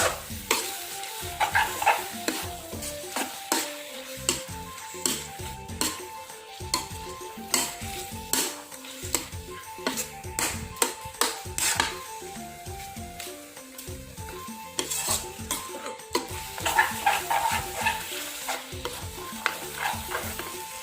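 Someone stirs a simmering fermented fish sauce broth in a pot, with steady close scraping and clinking of the utensil against the pot over a bubbling sizzle throughout.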